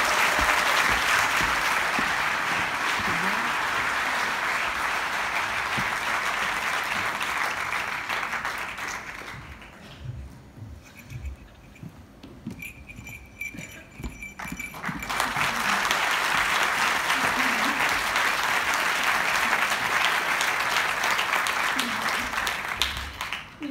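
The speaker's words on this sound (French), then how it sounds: "sous vos applaudissements." Loud audience applause greets a comedian on a comedy show stage, dropping to a quieter lull with voices in the middle before swelling back into full clapping.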